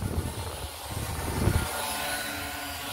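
Small A16 Max drone flying and hovering about one to two meters off the ground, a steady close buzzing propeller whir with slight swells in loudness and no talk.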